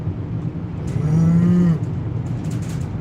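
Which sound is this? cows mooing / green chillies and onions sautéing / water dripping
cows mooing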